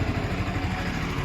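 A Yamaha Sniper 155 motorcycle engine runs close by after the starter, a steady low mechanical rumble with rapid even pulsing and no voices.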